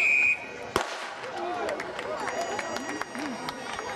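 A single sharp starting-gun bang fires for a race at the Pitlochry Highland Games, a loud crack followed by open-air crowd ambience.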